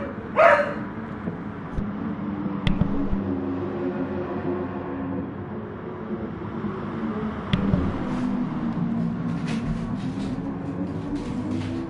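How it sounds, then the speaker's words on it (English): A dog barks in sharp, separate bursts, several yelps scattered over a steady background hum, fairly close and loud against the low rumble. "Luckily, the drivers aren't as thrown off by the sudden amounts of barking as I am"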